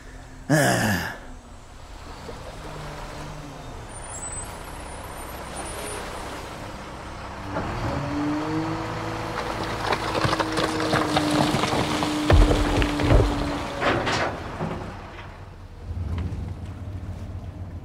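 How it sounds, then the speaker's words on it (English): A truck works on a beach loading volcanic rock, with a steady rumbling engine and a rising drone, clattering and scraping bursts, and a loud thud near the start, all continuous and close. "a truck has just collected all the volcanic rock off the beach"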